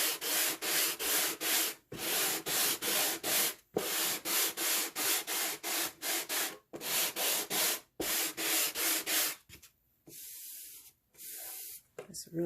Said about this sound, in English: you want to make sure you always sand in the way that the grain of the wood is going